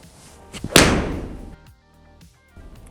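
A golf club strikes a ball during a full swing on the range, giving one sharp, loud impact crack that fades quickly into quiet with no talk.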